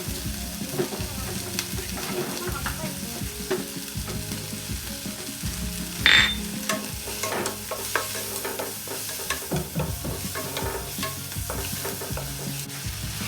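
Spicy fried rice stir-fries in a pan with a steady sizzle and frequent rhythmic scraping and tapping of a utensil, including one louder clank midway; no one talks.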